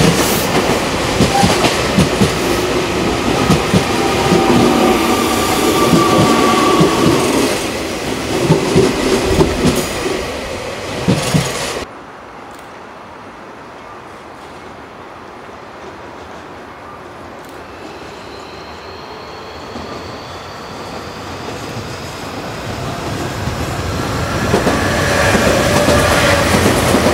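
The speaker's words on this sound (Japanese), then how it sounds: "1番乗り場を電車が通過します" A Nankai train rumbles loudly past Imamiya-Ebisu station without stopping, with clattering wheels, then cuts to a quieter station ambience before the rolling noise builds again.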